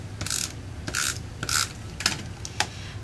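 An adhesive tape runner clicks and ratchets across card stock in five or six short, sharp strokes at a steady pace, close up with no voices.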